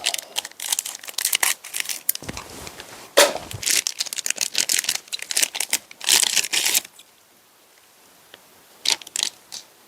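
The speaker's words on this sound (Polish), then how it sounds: "Nie będziemy się bawić, przytniemy to nożyczkami." Scissors cut open the packaging of Dutch army ration crackers, producing loud close crinkling and snipping of plastic film in irregular bursts, with a quieter pause near the end before more rustling.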